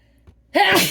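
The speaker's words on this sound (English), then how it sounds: "That was a big sneeze." A single sudden sneeze bursts out after a brief quiet intake of breath, loud and close.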